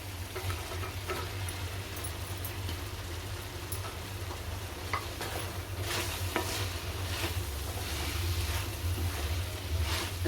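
Cauliflower is stirred into a yogurt gravy that is frying in a pan, giving a steady sizzle with scraping and stirring strokes throughout, a low hum underneath and no talk.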